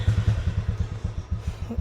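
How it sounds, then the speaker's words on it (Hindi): A started motorcycle engine idles close by with a quick, even train of low thumping pulses running the whole time, and no talk is heard. "तो करंटली बाइक हमारी स्टार्ट है"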